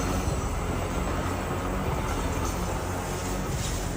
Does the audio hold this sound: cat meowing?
no